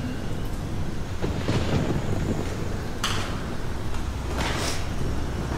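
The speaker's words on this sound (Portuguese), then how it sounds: "ainda tem uma ventania forte." Strong wind gusts roar steadily through a hurricane, with bursts of rushing, buffeting noise and occasional thumps, loud and continuous with no clear talking.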